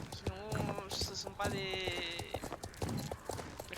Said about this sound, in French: qui se baladent à cheval